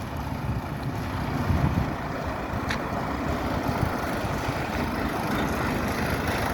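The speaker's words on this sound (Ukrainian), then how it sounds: "Булат 504, 50 кінських сил, коробка 4 плюс 1 на 2, примусова гідравліка, 28 шини." A Bulat 504 mini tractor with a 50-horsepower engine, a 4+1x2 gearbox, forced hydraulics and 28-inch tires runs outdoors as a faint, steady, low engine hum mixed with wind and broadband outdoor noise.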